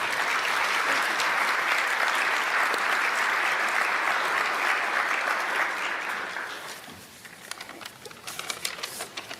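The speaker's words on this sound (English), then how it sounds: "You guys could put your cameras down and clap a little bit." Dense applause from a press-conference audience greeting the newly introduced head coach of the New England Patriots, steady and loud for about six seconds before thinning into scattered claps.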